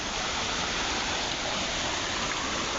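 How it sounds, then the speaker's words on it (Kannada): A small waterfall beside Unchalli Falls in the forested hills of Karnataka roars as a dense, constant rush of falling water, loud and unbroken throughout, with no talk. "ಕಿರು ಜಲಪಾತ ಇದು ಹುಂಚಳ್ಳಿ ಜಲಪಾತದ ತಮ್ಮ"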